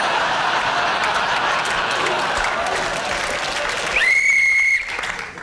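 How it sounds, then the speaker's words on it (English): A game show's final whistle sounds on a television panel show, one sustained high whistle blast rising over studio applause and crowd noise near the end of the round. "That was that last whistle."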